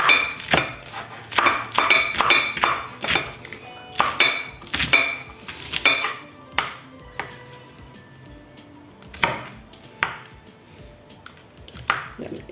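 Sharp knife strokes chopping green chillies on a board, a quick run of close, loud clicking cuts that slows into scattered taps with some dish clatter.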